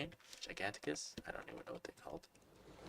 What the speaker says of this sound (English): I know you might hear my keyboard more because it's kind of near my keyboard.